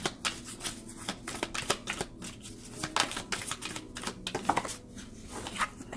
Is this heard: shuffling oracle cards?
yes